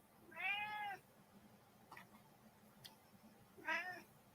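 Indoors, a cat gives two clear, drawn-out meows, one near the start and one near the end, with faint ticking and rustling in the quiet between.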